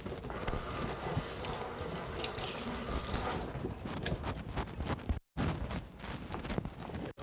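Fresh tomatoes are washed under a running kitchen tap, water gushing and splashing continuously close by, with a brief break in the flow near the end.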